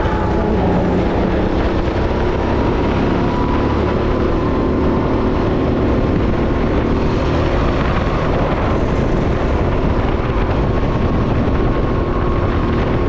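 A go-kart engine races hard through a corner on a track, a loud continuous buzzing drone close up, steady for the whole stretch with no voices.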